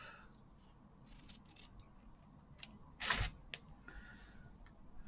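Scissors snip off a length of sewing thread once near the machine, one brief, close cut over quiet room tone.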